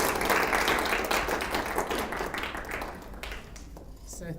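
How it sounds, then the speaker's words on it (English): Audience applause after a university guest lecture, a lively burst of clapping that gradually tapers off and grows sparse, with a voice briefly overlapping. "Can we give him another round of applause, please?"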